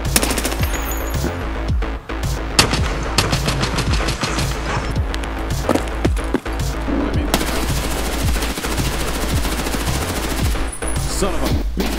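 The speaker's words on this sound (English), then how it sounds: "my hands are shaking, but I'm still shooting" Sustained automatic gunfire in the shooter game Escape from Tarkov, loud rapid bursts that run almost without pause through the stretch and fill the mix close to the listener.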